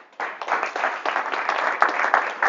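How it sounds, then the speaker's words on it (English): A presentation audience claps for a speaker at a blockchain event in Auckland, with steady applause close by and some louder claps standing out. "And if you will give our speaker, Satinder, a round of applause."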